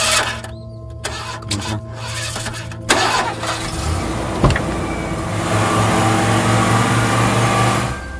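A car engine cranks and catches in a dubbed South Indian action film scene, the starter whirring before the motor fires into a steady, fairly loud running rumble that holds to the end.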